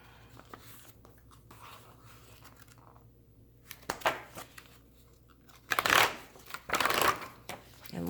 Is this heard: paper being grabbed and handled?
yes